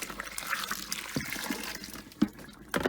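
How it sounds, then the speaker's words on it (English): Hot water is poured into a mash tun of malt while brewing ale, a steady soft splashing and trickling with a few small knocks, at moderate level. "I'm going to transfer about 10 litres into the mash tun and mix up with the malt"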